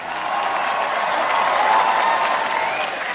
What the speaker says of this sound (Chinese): 掌声送给来自日本的